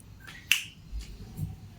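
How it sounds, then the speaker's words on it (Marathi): A single sharp finger snap, crisp and close, followed by faint low room noise and a couple of soft incidental sounds. "चुटकी वाजली"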